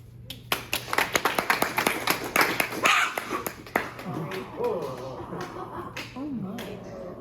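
Audience hands clap at a library panel discussion on poster art: a run of about a dozen sharp, evenly spaced claps rises to a brief burst, then fades as a person starts speaking.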